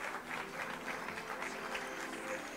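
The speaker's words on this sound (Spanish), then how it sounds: "Pues, señores, fuerte aplauso, muchachos." Steady applause from an audience, moderately loud and continuous, a dense patter of many hands clapping with no pauses.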